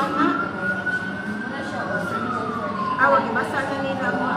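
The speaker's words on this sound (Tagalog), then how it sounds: "marami na pong mga truck ng bumbero" Fire truck sirens wail in the distance, rising and falling, over a dense roar of crowd noise and voices at a fire in B. Rodriguez, Cebu City.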